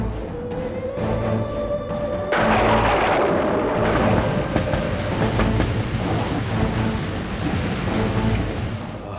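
Heavy rain with wind and thunder outside, a continuous loud downpour with a deep rumble swelling partway through and lingering under the steady hiss.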